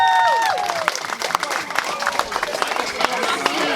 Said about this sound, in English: can we please give a round of applause for the father of the bride